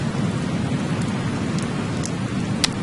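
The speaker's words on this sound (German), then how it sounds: "Ja, hier regnet's." Rain falling in the PC video game Overclocked, a steady hissing downpour with faint distant rumbling and a few brief sharp drips, no talking.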